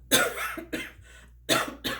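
A person coughs in close, harsh bursts, first a quick cluster of three and then a pair, with brief quiet gaps between them.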